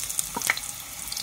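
Ingredients for a tilapia dish sautéing in a hot pan, a steady close sizzle with a few quick scrapes and clinks of a utensil near the start.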